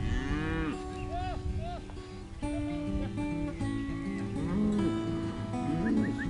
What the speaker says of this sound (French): Donc les vaches, ils mangent ici et là.